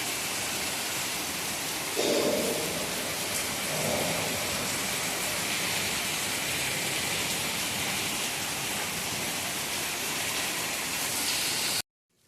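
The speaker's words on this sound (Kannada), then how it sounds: "ನೋಡಿ ಮಳೆ ಬರೋದು ತೋರಿಸ್ತೀನಿ" Heavy rain falls outside a hostel in Bangalore as a dense, steady hiss, with brief louder spatters near the start before the sound cuts off abruptly at the end.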